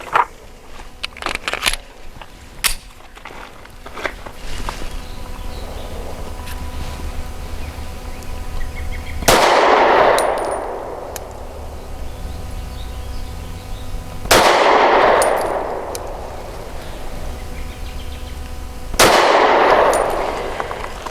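Three loud, sharp pistol shots from a Taurus GX4 firing Hornady American Gunner 115-grain ammunition, spaced about five seconds apart at a range, each with a ringing decay, after some faint clicks and handling noise.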